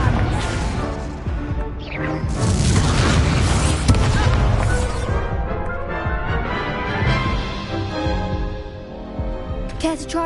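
A fire spell bursting into a loud booming explosion in the Hogwarts video game, with rumbling crackle sustained for several seconds under a dense game soundscape.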